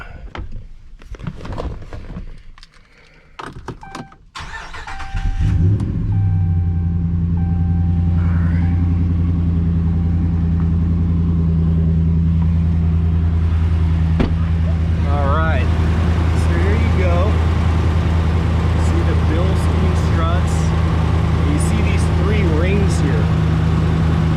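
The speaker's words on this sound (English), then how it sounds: "So I'll turn on the truck" A Ram 1500 pickup truck engine cranks and starts after a few seconds of handling noise, then settles into a steady, loud, rumbling idle close by.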